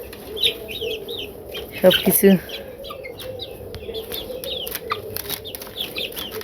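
Village chickens and chicks cluck and cheep through a busy farmyard scene, with a sharper burst of calls near the middle and a person speaking briefly.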